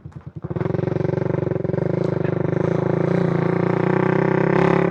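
A motorcycle engine starts and idles with a steady, loud, throbbing putter, close by, with no talking.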